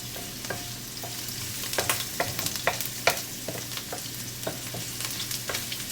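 Cabbage and onion are stir-fried in a pan: a continuous frying hiss broken by repeated sharp utensil scrapes and clicks against the pan, close up and fairly even in level.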